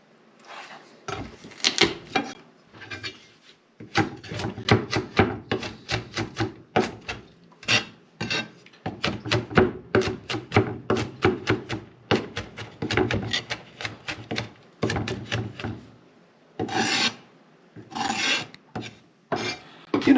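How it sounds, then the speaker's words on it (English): A knife finely chopping garlic on a cutting board, a long run of quick, crisp taps in bursts with short pauses between, close and clear. "A nice fine chop on the garlic."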